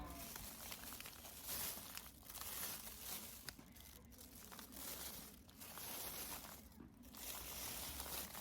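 Plastic bag crinkling and rustling while being wrapped and tied around seed trays of sown stock seeds, a soft, close, intermittent crackle over several seconds with no talk.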